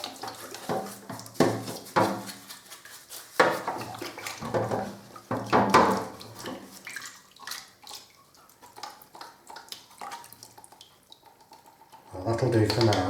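Water sloshes and splashes in irregular bursts as a paint roller sleeve is rinsed, with occasional knocks and clatter, then a steadier rush of water near the end.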